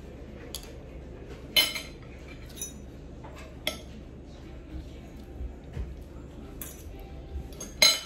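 Cutlery and dishes clink sporadically in sharp, scattered taps as people begin eating a meal of tinola, fairly close against a quiet room hum.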